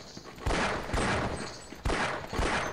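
In the video game Half-Life: Decay, gunfire strikes a cactus in four sharp, separate bursts about half a second to a second apart, each with a short rattling decay, heard fairly quietly without any talk.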